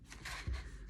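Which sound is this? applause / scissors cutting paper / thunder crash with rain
scissors cutting paper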